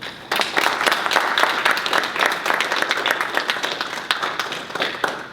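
A seated audience at a panel discussion on Black politics claps steadily throughout, a dense, even wash of many hands at moderate loudness that starts abruptly after a short quiet moment and holds without talk.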